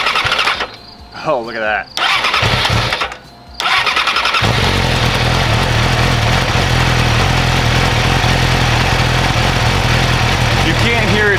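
A Yamaha R6 motorcycle engine with a spun bearing is cranked twice by the starter, then catches and settles into a loud, steady idle close by, with a brief spoken remark during the cranking.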